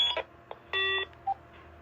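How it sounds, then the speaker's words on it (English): A Phone-Mate cordless phone sends its analog transmission tone, a short sequence of electronic beeps and a brief steady multi-tone burst, faint and isolated against a quiet background hum. "you got to hear the cordless phone analog transmission tone from the phone mate"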